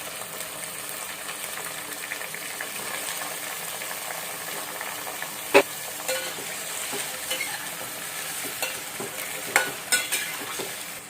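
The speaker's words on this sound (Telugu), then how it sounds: "ఆనియన్స్ కొంచెం వేగిన తర్వాత మనం ముందుగా కట్ చేసుకున్న ఈ దోసకాయలు, బంగాళదుంప, ములక్కాయలు వేసుకుందాం" Onions frying in a pan as chopped cucumber, potato and drumsticks go in for a curry, a continuous low sizzling hiss with a couple of sharp utensil clinks and soft stirring, moderately quiet and with no talking.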